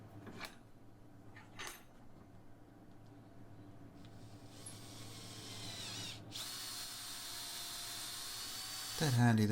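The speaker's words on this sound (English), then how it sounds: "Dead handy, these little cordless drills, especially with the screwdriver facility." A small cordless drill drives a thread tap through welded LPG burner parts, whirring steadily in a close, thin whine with short bursts and a rising pitch near the end, alone without talk.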